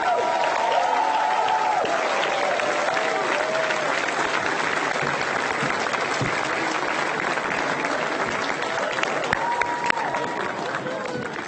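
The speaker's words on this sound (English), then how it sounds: "Please join me in congratulating Fred, Victoria, Chrissy, Bridget, and Marian" Loud, sustained applause from a large crowd at the 2018 Virginia Special Olympics opening ceremony, honouring the Family of the Year, steady and dense for the whole stretch with faint cheering mixed in.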